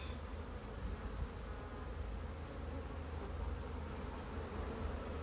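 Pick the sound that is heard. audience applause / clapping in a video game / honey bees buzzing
honey bees buzzing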